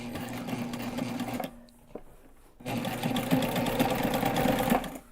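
A sewing machine basting a backpack runs in a loud, continuous whirring stitch, stops briefly for about a second, then resumes at a steady pace to the end.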